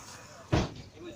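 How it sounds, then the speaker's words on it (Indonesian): A door at Meulaboh class II prison is opened during a reconstruction of a detainee escape, giving a single short, fairly loud thud amid quiet background. "Ini buka pintu."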